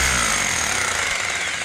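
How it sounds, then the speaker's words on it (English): A drill used as a jackhammer pounds on a concrete slab, a loud, fast, continuous hammering rattle close up with no speech. "I'm using this as a kind of a jackhammer"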